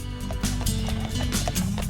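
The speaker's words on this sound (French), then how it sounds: "Nous sommes venus avec 4 chevaux" Hooves of four horses on a ride through the Seine valley clatter in a quick, continuous clip-clop, close and loud over a steady outdoor background.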